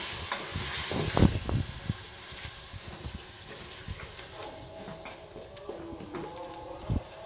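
Stirring thick spiced moussaka ingredients in a pan, with a few loud scraping clanks early on and a soft steady sizzle underneath, the stirring continuing at a moderate distance without any talk.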